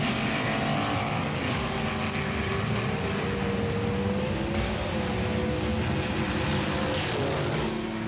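Welly Volkswagen toy race car and other die-cast cars speeding down a track, a continuous loud rolling rumble with rising and falling whine, steady throughout with no talk.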